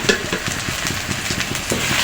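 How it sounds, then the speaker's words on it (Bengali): A spoon or spatula stirs cumin, coriander and red chili powder in a hot pan for chicken tehari, giving rapid rhythmic scraping strokes over a low sizzle, close and fairly loud, with no talking. "আবারও নাড়াচাড়া করছি"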